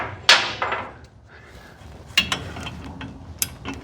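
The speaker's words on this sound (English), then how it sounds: "I took a little bit smaller hammer and tapped there a few times" A small hammer taps on a rear axle U-joint socket during U-joint installation on a Rampside, giving a series of sharp metallic taps, two close together at the start, then scattered lighter knocks.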